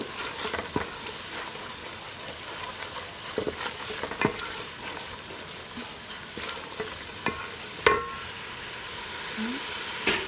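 Potatoes fry in a pan for aloo methi, with a steady sizzle broken by occasional clinks and scrapes of stirring.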